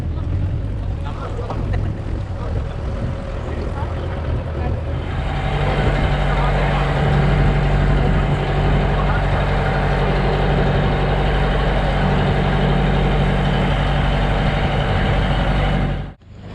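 A motorboat engine rumbles loudly and steadily nearby as the boat pulls away from a rocky shore at Underi fort, a continuous droning roar that cuts off abruptly at the end.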